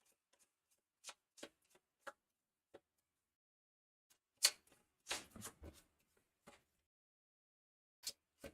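Cards are shuffled by hand for the Cloudspire board game. Sparse, close taps and clicks lead to a short, soft riffling burst, then more scattered ticks in a quiet room with no talk.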